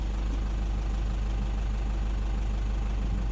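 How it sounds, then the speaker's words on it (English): A car engine runs at steady speed while a scan tool performs a fuel system leak test, a constant droning hum with a strong low rumble, close and unbroken, no voices. "it's going to rev up the engine and take it to maximum fuel pressure"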